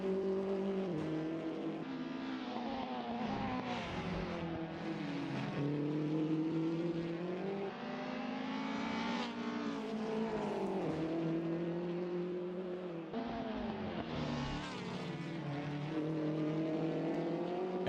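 BTCC touring race cars racing at Macau, one with heavily smoking tyres, engines droning loudly and continuously as they rise and fall in pitch through gear changes, with several passes.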